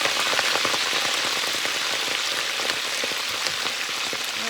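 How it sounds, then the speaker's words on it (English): A steady, dense crackling hiss of mustard greens frying in hot oil, loud and close, continuous throughout with no talking. "Listen for the sizzle."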